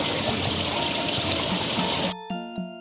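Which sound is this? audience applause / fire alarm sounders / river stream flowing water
river stream flowing water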